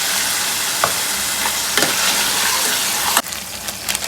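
Chopped tomato pieces hitting hot reddened masala over a high flame, giving a steady loud sizzle with a few scraping stirs and a sharp clatter near the end. No one speaks.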